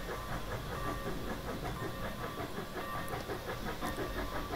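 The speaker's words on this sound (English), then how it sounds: "Steam intensity increases for our cylinder cocks as you open a throttle" Steady loud hiss of steam from the cylinder cocks of a NYC 4-6-4 Hudson locomotive in Train Simulator Classic, with rhythmic chuffing pulses throughout, close and continuous.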